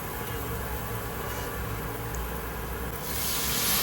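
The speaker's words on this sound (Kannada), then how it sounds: "ನೀರು ಹಾಕ್ಕೊಳ್ತಾ ಇದ್ದೀನಿ." Water poured into a hot pan of frying masala for a bread masala sandwich gives a steady, moderately loud hiss of sizzling that swells toward the end, with no talk.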